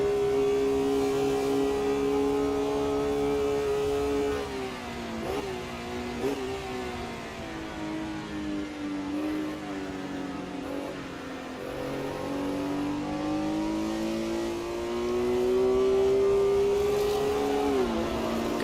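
Close, continuous engine drone of a 1960s race car in Assetto Corsa at the Zeltweg circuit, with revs dipping on gear changes and rising through long pulls, alone without talk.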